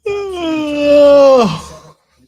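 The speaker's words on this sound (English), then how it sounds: "I don't apologize for you watching me yawn." A person yawns once, a drawn-out voiced exhale that rises slightly and then trails off into a breathy sigh, close and clear.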